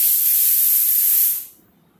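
A kitchen pressure cooker vents steam in a loud, steady hiss that holds for over a second, then cuts off abruptly, leaving near silence.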